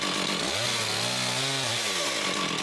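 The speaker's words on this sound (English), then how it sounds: "I decided to cut bigger trees with my chainsaw" A chainsaw cutting bigger trees near a cottage in October, its loud engine note rising into a strained cut for about a second and then dropping back, close and alone.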